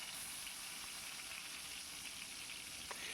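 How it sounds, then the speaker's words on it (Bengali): Boiled eggs and potatoes fry in oil for an egg chicken curry, giving a steady, fairly soft sizzle that holds even throughout with no other sounds. "এরপরে এই একই তেলে আমি কিন্তু ডিম আর আলুটাকেও ভালো করে ভেজে নেব"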